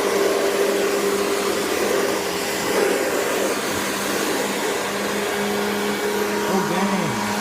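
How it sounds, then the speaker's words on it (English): A Hoover convertible upright vacuum cleaner runs steadily in straight suction mode, a loud continuous motor whine and airflow rush with a faint voice briefly audible underneath. "here's the convertible. It actually sounds really nice. It's in straight suction."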